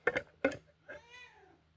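A house cat meows close up: two short, sharp calls in quick succession, then a longer, drawn-out wavering meow, loud against a quiet indoor background.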